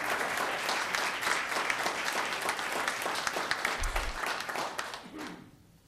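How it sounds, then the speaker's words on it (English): Applause from the audience at a Los Gatos town council meeting, a steady dense patter of many hands clapping that carries evenly for several seconds before tapering off at the end. "And one more time, a big round of applause."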